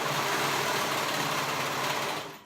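A sewing machine stitches steadily at close range through rash guard fabric in one brief, even burst that fades at the end.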